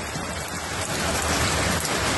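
Steady rain falls on an outdoor yard around a drainage pipe, a dense, even hiss of drops close by that holds without a break, with no voices.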